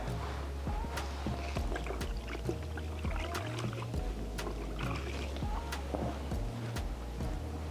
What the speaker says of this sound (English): Dunk it in and come back